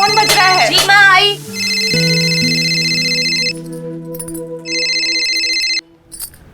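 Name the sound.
phone ringing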